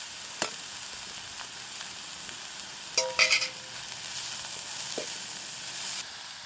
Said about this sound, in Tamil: இதுங்களுக்கு இந்த பச்சை வாசனை போக வதங்கினா காணும் நல்லா பொரிக்கணும்